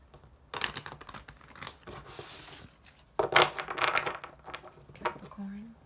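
Tarot cards being shuffled during a Capricorn reading: rapid papery riffling and crinkly flutters in several bursts, fairly close and moderately loud, with brief pauses between runs and a little talk mixed in.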